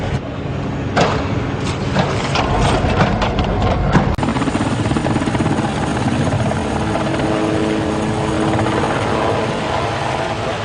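Helicopter rotor and turbine noise, loud and steady throughout while circling at sea in the 1996–1997 Jeanne campaign with zero ceiling and no visibility, a sharp click near the middle, no talk.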